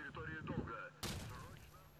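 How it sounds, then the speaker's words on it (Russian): Gunfire and explosions in the S.T.A.L.K.E.R.: Shadow of Chernobyl game with the Lost World mod, a sharp loud blast midway followed by dense crackling shots, with voices talking throughout. "Тут все прям взрывается, чпокает."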